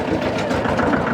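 A tractor engine idles steadily at close range, a continuous low rumble with a slight knocking pulse and no pauses.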